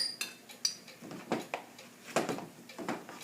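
A table knife scrapes and taps against a measuring cup while leveling off cocoa powder. Light, close clinks and scrapes come in quick irregular bursts, several over a few seconds.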